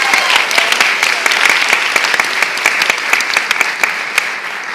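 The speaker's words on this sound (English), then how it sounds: "Round of applause for this lady." Loud applause from a magic show audience for a volunteer coming up on stage, dense crowd clapping with crisp individual claps, sustained and close.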